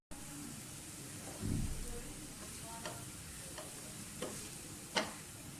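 Besan and egg halwa roasting in ghee, a steady close sizzle with a spoon scraping and stirring the pan, a few sharp clicks of the utensil against the pot.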